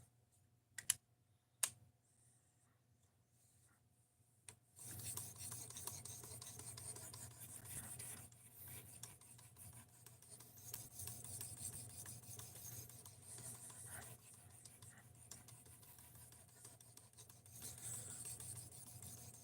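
A knife blade rasps steadily across a 3,000 grit sharpening stone, a close, continuous scraping with a few sharp clicks beforehand, then repeated strokes running on without talk.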